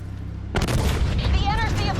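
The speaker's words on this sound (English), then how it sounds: "Launched a missile barrage." A sudden heavy boom from a missile barrage in Call of Duty: Black Ops 3 breaks out after a quiet moment and rumbles into continuing explosive blasts and debris, loud and close, with voices speaking over the tail.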